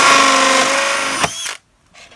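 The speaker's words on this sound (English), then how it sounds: "This is tricky to drill." Power drill notching the edge of a plastic bucket, a steady high whine of the motor cutting plastic for about a second and a half before it abruptly stops, close and alone.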